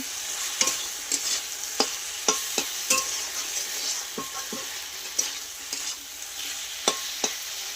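Spice paste (masala) for a prawn, papaya and potato dish sautéing in a pan, a steady hiss of frying with regular clicking stirs of a spoon against the pan, close and alone.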